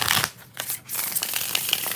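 Tarot cards are shuffled by hand in quick bursts of papery riffling and slapping, close and fairly loud, with brief pauses between shuffles and no voices.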